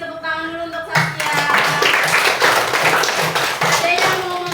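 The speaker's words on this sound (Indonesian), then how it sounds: "Oke, kasih tepuk tangan dulu untuk Saskia." A classroom group claps together, a steady burst of many hands lasting several seconds, with children's voices mixed in.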